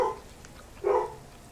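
A dog gives two short indoor barks about a second apart, the second slightly louder, both fairly close with quiet between them.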